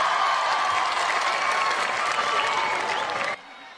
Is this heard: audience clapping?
yes